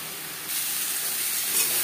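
Potatoes and pointed gourd frying in a pan with salt and turmeric, giving a steady hissing sizzle that grows a little louder partway through and carries on without speech.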